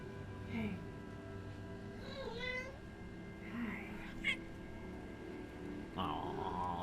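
A Loth-cat creature from the live-action Ahsoka series gives a few short meows amid background score and room sound, with faint talk mixed in.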